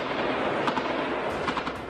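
Gunfire and blasts sound during a drone attack in Kyiv, a dense wash of noise with several sharp cracks and pops clustered toward the end, fairly loud and continuous.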